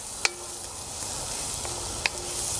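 Chopped onions sizzle in a pan for smothered green beans with tomatoes and tasso, a steady soft frying hiss broken by two faint metallic clinks, with no talking.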